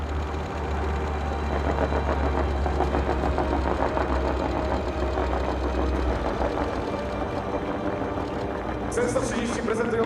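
The turboprop engines of a C-130 Hercules at the Leszno airshow give a steady, droning throb that carries through the whole stretch. An announcer speaks over it.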